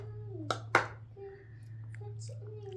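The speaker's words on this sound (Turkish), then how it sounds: "Alkış." A small child claps hands at a family breakfast table, two sharp claps close together, with a steady low hum beneath and faint voices and clatter afterward.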